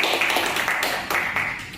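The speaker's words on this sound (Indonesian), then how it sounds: "Sebelumnya kita berikan tepuk tangan terlebih dahulu kepada delegasi dari Indonesia yang telah menyampaikan." A room claps for the Indonesia delegation at a model ASEAN summit meeting, a short burst of scattered applause that slowly thins out.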